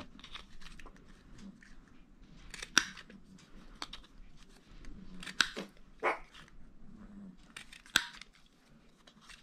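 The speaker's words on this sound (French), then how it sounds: "Je vais le faire au ciseau" Scissors cut through paper for handmade Valentine's cards with a series of sharp, irregular snips spaced a second or two apart over a soft rustling background, close and without talking.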